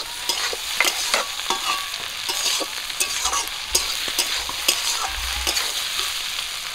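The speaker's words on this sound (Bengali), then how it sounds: "চিংড়ি মাছ ভাজাগুলো দিয়ে দিচ্ছি" Fried prawns are tipped into a hot pan with cumin and garlic and stirred, giving a steady bright sizzle broken by repeated scraping clicks of the spatula, close up.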